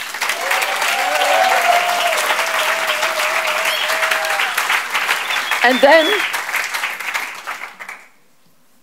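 Audience applause at a full concert fills the hall loudly and steadily for about eight seconds, with a voice speaking over it before the clapping stops abruptly.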